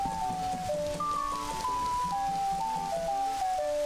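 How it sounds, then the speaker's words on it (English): Rain falling in The Legend of Zelda: Majora's Mask, a steady wash of rainfall under a soft melodic game tune with sliding tones, continuous and even. "What? Is it raining?"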